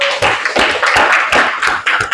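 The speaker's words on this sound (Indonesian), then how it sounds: "Kasih tepuk tangan." Students in a classroom clap together in loud, close, rhythmic bursts, a handful of strong beats separated by short pauses.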